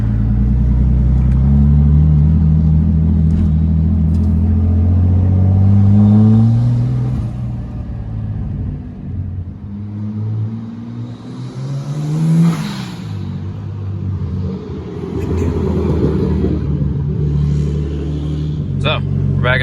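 A drift car's RB25 engine revs up and down in sustained, rising and falling surges to about 4,000 RPM, with a brief whoosh partway through; a person talks at times.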